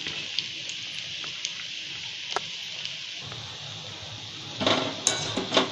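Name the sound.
spinach pakoda frying in a pan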